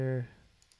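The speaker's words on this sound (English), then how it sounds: "just go in here and click three times" Two faint, sharp mouse clicks land close together near the end while someone works in Blender 3D software, right after a brief stretch of speech.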